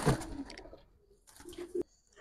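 A female Giribaz Bagha pigeon, silver with a black neck, gives a few soft low coos at close range, interspersed with brief rustles and quiet gaps.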